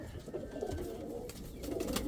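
Indian fantail pigeons in a coop give quiet low cooing, a few rolling coos rising toward the end over a soft, steady background hum.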